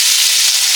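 Garlic dropped into hot oil in a wok along with radhuni seeds, giving a close, loud, steady sizzle that hisses without a break through the whole short moment.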